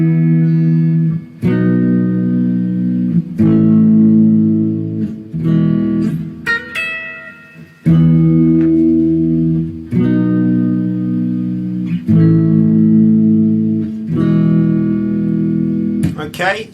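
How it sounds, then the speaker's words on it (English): Clean electric guitar plays the interlude of a song, ringing chords and single notes in separate phrases with short pauses between them and no voice. "It's going to be a clean part, like for the interlude, and it'll sound something like this then."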